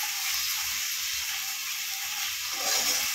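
Tomatoes sautéing in an iron pan while cooking a potato and green peas gravy make a soft, steady sizzling hiss close by, with a faint scrape near the end and no talking.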